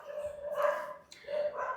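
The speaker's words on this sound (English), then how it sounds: "I'm really sorry for this dog barking voice" A dog barks twice, a drawn-out woof followed by a shorter one, moderately close in the background indoors.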